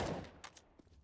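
A few quick gunshots ring out in a competitive shooter match, one louder burst followed by two or three fainter, distant-sounding cracks within about a second.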